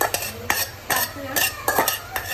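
Mutton being stirred with masala spices in oil in a pot, with a run of short utensil scrapes and clinks at an irregular rhythm, fairly close and without talk.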